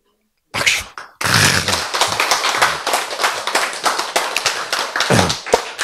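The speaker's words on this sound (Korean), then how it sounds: "박수!" An audience at a Korean Bible lecture claps: after a brief opening burst, loud applause rolls on steadily for several seconds before fading.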